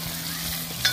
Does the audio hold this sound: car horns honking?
no